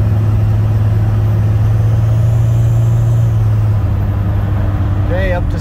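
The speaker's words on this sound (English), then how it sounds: "All right, so cruising on the freeway right now." Steady road drone from a truck cruising at freeway speed, a constant low hum and rumble with a strong low engine tone running throughout, plus a brief rising squeal near the end.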